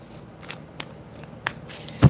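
Tarot cards are shuffled by hand in a few soft, scattered riffles and slaps, quiet and close, ending in a sharper thump.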